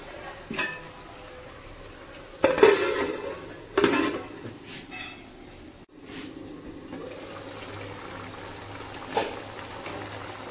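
A lid goes onto a pot of simmering mutton curry, giving a few sharp metallic clanks and knocks over a low background of cooking noise.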